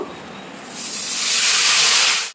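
A loud, sustained sizzling hiss erupts as water hits jaggery in a hot pan, swelling briefly and then cutting off sharply.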